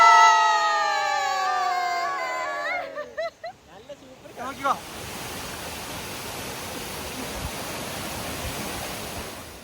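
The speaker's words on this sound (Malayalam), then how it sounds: "ചെറിയ വെള്ളച്ചാട്ടം കാണിച്ചു തരാം." A small waterfall in Morocco sends up a steady, broadband rush of falling water that fills the last six seconds, after a brief stretch of muffled handling noise and a few sharp knocks.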